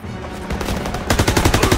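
Gunfire in a World War II Battle of France shooter game, a loud close burst of rapid automatic fire that intensifies partway through into dense, rattling shots.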